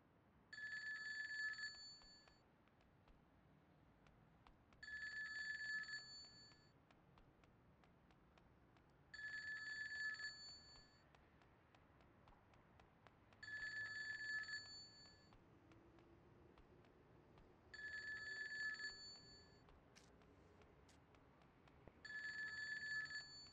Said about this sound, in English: Not only this phone is annoying